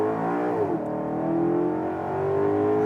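A 2019 Maserati GranTurismo Convertible MC engine at full throttle, a raspy, rising roar with a quick gear change partway through before the pitch climbs again, loud and close with no talking.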